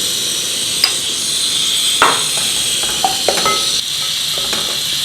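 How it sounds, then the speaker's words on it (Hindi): Fifty grams of raisins fry in a pan with a steady, fairly loud sizzle, broken by a few clinks and scrapes of stirring. "50 ग्राम किशमिश को भून लेते हैं।"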